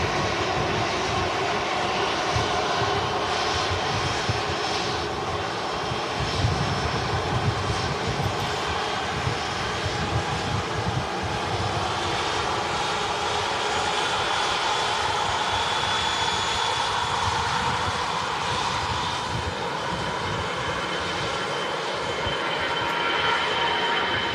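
An EasyJet airliner arrives from Jersey at a windy Manchester Airport, its engines giving a constant, even roar with wind rushing across it for the whole stretch.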